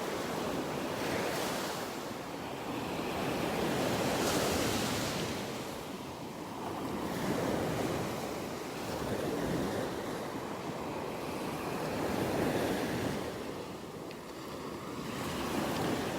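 Surf rolling steadily onto Vanderbilt Beach in North Naples, Florida, a continuous broad wash of breaking waves with gentle swells in intensity and some wind noise on the microphone, no voices.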